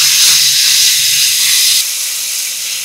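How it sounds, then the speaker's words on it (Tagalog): Onion, garlic and ground meat sautéing in a hot pan, a loud, steady sizzling hiss close by that drops slightly in intensity partway through, with a faint low clatter early on. "Maggisa tayo ng sibuyas. Sunod naman yung bawang. Tapos yung giniling."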